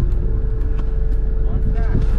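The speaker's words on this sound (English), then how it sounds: "We had to drive the Land Rover very precisely over these set beams" A Land Rover Defender creeps across a balance beam, its engine a low steady rumble close by, with a person talking over it.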